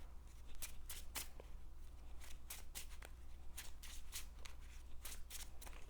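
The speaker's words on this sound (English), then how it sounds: "We'll shuffle up our deck." A deck of playing cards is shuffled repeatedly during a Marvel Champions card game, giving faint, crisp riffling bursts in an irregular rhythm over a steady low hum, with no talking.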